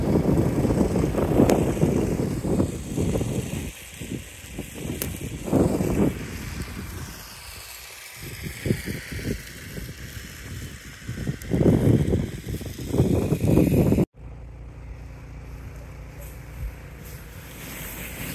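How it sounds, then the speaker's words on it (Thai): Strong wind gusts buffet the microphone outdoors on a snowy day, loud rumbling bursts rising and falling, then an abrupt cut to a quieter, steady whoosh. "ลมทลายเลยค่ะเพื่อนๆค่ะลมทลายเลย"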